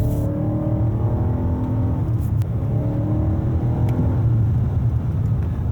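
A 2024 Lexus TX 550h+ plug-in hybrid SUV accelerates through a quick turn, its engine and drivetrain giving a steady, rising hum with road rumble heard from inside the cabin, continuous and moderately loud with no voices.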